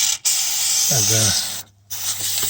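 Fluid Film rust protection sprayed onto a Mitsubishi Delica, a steady close hiss running nearly throughout with a brief gap partway, while someone speaks over it.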